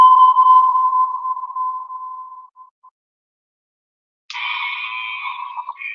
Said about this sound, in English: There's some radar pings.